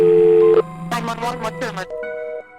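A telephone call to the police is dialed and abruptly cut off: a steady electronic line tone, then a run of rapid pulsing tones, then a thinner flat tone after the line drops.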